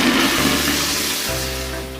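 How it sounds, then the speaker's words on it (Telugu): A full jug of water is poured loudly into a pan holding oil and jaggery, a close, rushing splash that tapers slightly as the stream continues. "మనం ఒక చెంబు నిండా వాటర్ అనేది పోస్తున్నాం అన్నమాట"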